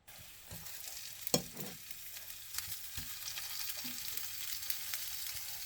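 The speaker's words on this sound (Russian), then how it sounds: "Чуть-чуть чесночка поджарю." Garlic and shrimp fry in sunflower oil, a steady low crackling sizzle with occasional sharper pops and utensil taps, quiet and close, without speech.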